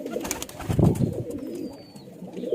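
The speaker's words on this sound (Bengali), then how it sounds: "এই পায়রাটার নামই হলো চিনি।" A pet pigeon at home coos in a low, soft burble, fairly close and continuous, with some faint rustling and a thin distant whistle-like bird note behind it.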